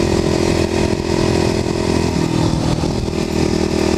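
A Kawasaki KLX250sf motorcycle engine drones steadily while riding on pavement, close and loud throughout, with a constant low hum and a slight pitch shift midway as the revs change.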